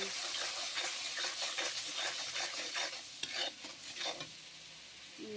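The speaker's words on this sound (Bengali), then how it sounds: "দিয়ে দেবো হলুদ গুঁড়া, আরও দেবো পরিমাণ মতো লবণ, দিয়ে মশলাটা কষিয়ে নেব।" Spice paste with turmeric powder and salt being sautéed in a pan for goat meat with chana dal: a steady close sizzle with repeated scraping stirring strokes throughout, no voices.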